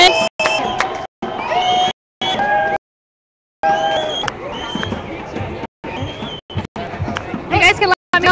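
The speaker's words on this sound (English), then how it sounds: "So we're cheering to the people that are up in the apartments." A protest crowd marching near Telegraph cheers and shouts up toward residents in apartment buildings, loud close whoops and babble in bursts with brief silent gaps.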